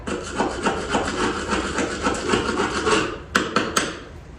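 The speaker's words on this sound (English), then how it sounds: "I'm just scraping away at all this heavy stuff right now" Steady, gritty scraping of a tool rubbing back and forth over a hard surface, close and continuous, ending with a few sharp knocks.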